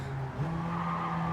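A classic Alfa Romeo slides sideways on the Nürburgring in Gran Turismo 7, its tires holding a steady, close squeal over the engine note that rises slightly in pitch partway through.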